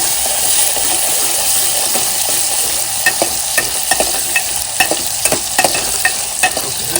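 Cashews tossed and fried in hot oil for a chicken-liver dish, a steady sizzle carrying a string of sharp stirring scrapes and clicks that grow more frequent toward the end, close and loud with no talking.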